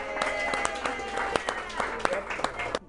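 Crowd at a live Pittsburgh sports talk show at Cip's: steady murmur of voices with scattered claps and sharp bursts of applause throughout, with people talking over it.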